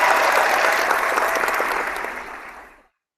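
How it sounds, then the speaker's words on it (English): A studio crowd claps for a guest during a boxing discussion about Joshua versus Klitschko, a dense burst of applause that tapers away and stops within about three seconds. "let's give you a round of applause for that, son"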